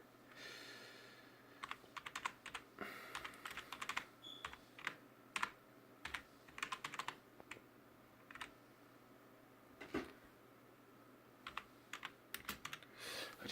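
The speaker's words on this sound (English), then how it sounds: "I just have to type that into the console there" Quiet typing on a computer keyboard at a gaming PC, entering a command into a game console: irregular bursts of light key clicks with short pauses, close and soft, no talking.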